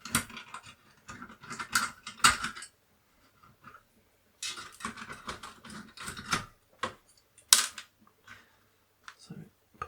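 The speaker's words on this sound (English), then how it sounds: "See if we can pull the screws out." Screws being unscrewed from a Commodore 64 keyboard, heard as bursts of close, dry ratcheting clicks and small mechanical rattles separated by quiet pauses.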